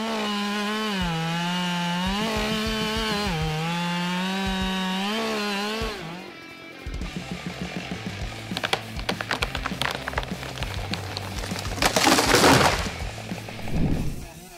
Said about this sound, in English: This Husky 572 XP chainsaw is lightweight and portable